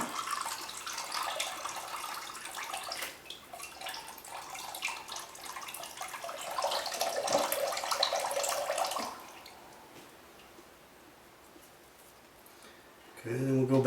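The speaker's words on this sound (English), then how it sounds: "So just let the water run out." Coconut water pours from a freshly cracked coconut into a bowl, a steady trickling splash for several seconds that then stops, followed by a quiet pause and a brief louder knock.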